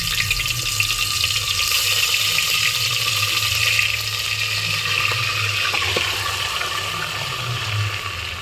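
Marinated mutton pieces for a handi mutton biryani hit hot oil, giving a loud, steady, close broadband sizzle that holds for the whole stretch with no voices.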